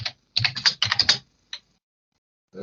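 Computer keyboard typing an AI image prompt: two close bursts of rapid keystrokes, a single isolated tap, then typing resuming at the end, with no talk.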